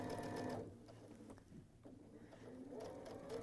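A sewing machine chain-pieces quilt blocks, stitching one block straight onto the next in a quiet, rapid mechanical whirr that pauses briefly in the middle and then resumes.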